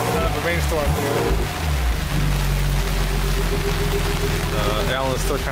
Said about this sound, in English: Rainstorm here.